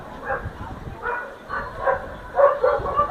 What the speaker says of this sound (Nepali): बाँदर देखेर कुकुर करायो